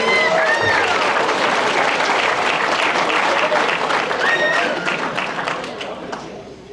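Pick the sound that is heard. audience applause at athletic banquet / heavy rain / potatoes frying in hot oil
audience applause at athletic banquet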